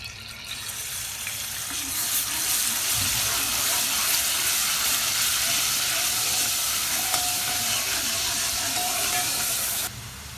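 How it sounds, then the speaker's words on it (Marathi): A garlic-coriander paste is frying in hot oil, giving a loud, steady sizzle with bright hiss and crackle. It holds for about eight seconds and then cuts off abruptly. "पेस्ट चांगली परतायला लागली आहे"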